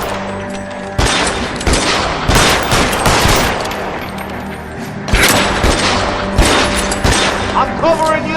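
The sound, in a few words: gunfire in video game L.A. Noire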